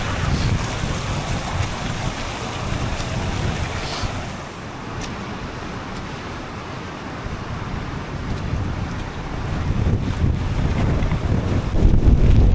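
Strong winter storm wind gusts roar across an exposed outdoor spot, buffeting the microphone in loud, turbulent surges that ease briefly midway and then build again, with no talk.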